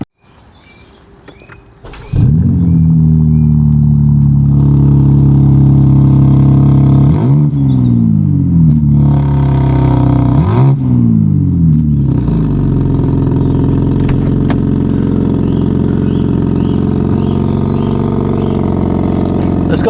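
A BMW M4 Competition xDrive G82 engine starts with a loud bark, then settles into idle and is revved twice with rising and falling sweeps, close, loud and sustained.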